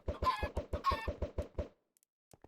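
A Minecraft chicken lays an egg, giving a quick run of about a dozen rhythmic clucks followed by a soft pop and faint clicks. The game sound is close and clear, with no talking over it.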